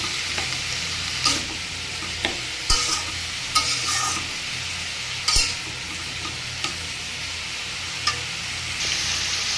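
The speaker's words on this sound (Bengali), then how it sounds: "শুধু পাঁচফোড়ন দিয়ে ধনিয়া পাতা দিয়ে বাঁধাকপি ভাজা" Shredded cabbage fries with panch phoron and coriander leaves, a continuous close sizzle broken by repeated scraping and clacking as a spatula stirs the pan; no voices.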